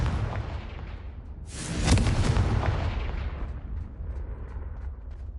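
In Hogwarts Legacy, a Confringo blasting spell lands with one loud, booming explosion, then a rumbling tail slowly dies away.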